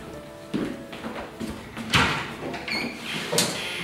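Sliding metal door of an older residential elevator being pulled shut, a series of close rattling scrapes and clanks building to a louder bang near the middle, then further metallic clatters.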